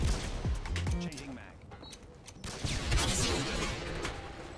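Gunfire in the video game Modern Warfare 2 during trickshot play, a few sharp reports with crashing game effects, heard under loud ongoing game sound and a talking player.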